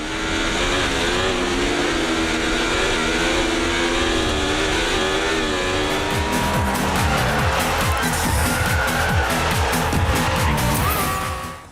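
Formula One race cars in a split-screen video game roar loudly and continuously, engines revving and shifting through gears, with rapid fluttering passes and tire squeal in the later half.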